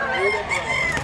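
Chickens at a rural market in Mantalungon, Cebu, with fowl crowing and clucking in short bursts, close by, alongside voices talking.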